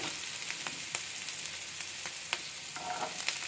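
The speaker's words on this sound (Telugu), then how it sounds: "ఆనియన్ ఇలాగా కొంచెం ఎర్రగా వేపుదాము" Onion sizzling in hot oil in a pan while cooking khara bath upma, with a steady bright hiss and scattered sharp pops and crackles, close and moderately loud, with no talking.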